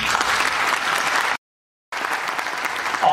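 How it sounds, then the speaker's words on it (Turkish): A meeting audience applauds at a city council assembly, dense steady clapping that breaks off briefly in a gap of silence and then resumes, filling the hall at a fairly loud level. "Alkışların en güçlüsünü alan Taha kardeşimize"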